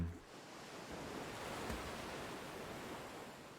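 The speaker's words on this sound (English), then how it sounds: "the sounds of splashing waves are unbelievably loud" Loud, continuous splashing of ocean waves and surf from a summer beach scene in the Fate/hollow ataraxia visual novel, a dense steady wash with no talk over it.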